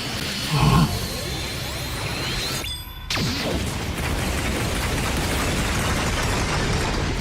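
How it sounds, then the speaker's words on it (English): The Undying Flames explosion from the video game The Hundred Line: Last Defense Academy booms loudly with a whooshing burst, then a sudden cut to silence and a rumbling aftermath. "Undying Flames Explosion?"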